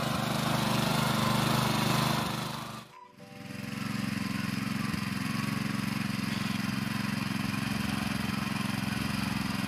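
A tractor engine runs steadily in a paddy field, a loud continuous mechanical drone that dips briefly near the third second before resuming at an even level to the end.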